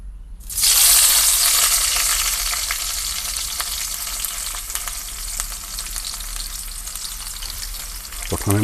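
Chopped onions drop into hot oil for a mutton and potato curry and burst into loud, close frying. The hiss peaks at once, then settles into a steady crackling sizzle, with a clatter of the pan at the end.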